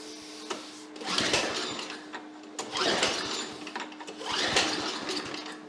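Snapper snow blower engine being pull-started with full choke and primed, giving three rough recoil pulls with rattling mechanical bursts, close and fairly loud, without catching.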